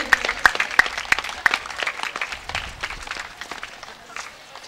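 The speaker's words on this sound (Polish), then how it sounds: "wielkie brawa tutaj dla Państwa" People applaud at the opening of a new sports pitch at a Warsaw middle school, a lively outdoor patter of claps with voices talking underneath.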